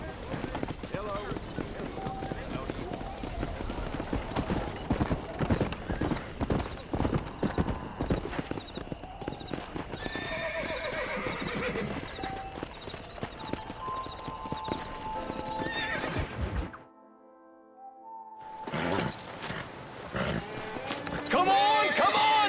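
Horses in Red Dead Redemption: repeated hoof clip-clops of galloping horses on a ranch with occasional whinnies, loud and close, under shouting voices, briefly dropping out before the hooves and calls return.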